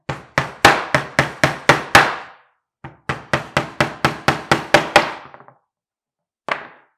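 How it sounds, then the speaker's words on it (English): Finishing nails hammered into a wooden snowman, sharp wooden knocks in quick rhythmic bursts: about eight strikes, a pause, then about nine more with softer final taps and one last blow, close and loud. "and hammer time"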